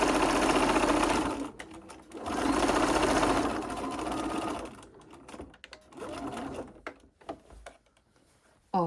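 A sewing machine stitches around a handmade blouse in two loud, rapid bursts. A few quieter, shorter runs follow, broken up by clicks of handling the fabric.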